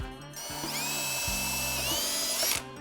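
A power drill whines steadily at close range, boring a hole through a subwoofer enclosure, its pitch rising and dipping slightly under load before cutting off, with a few short motor pulses at the start.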